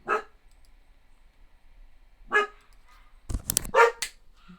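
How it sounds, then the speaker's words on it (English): A dog barks in a few sharp bursts, some distance off, with short pauses of quiet between them and a louder cluster of barks near the end. "Damn dog. I got dogs for babysitting here too, man. Annoying as hell."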